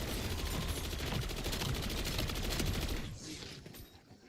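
A light machine gun fires in a video game as one fast, steady burst of rapid shots for about three seconds. The burst then cuts off and leaves a short fading tail.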